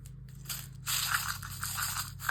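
Crushed glass pieces pour into a cup for a coastal resin angel craft, a continuous close crunching, rattling trickle that starts abruptly and keeps going.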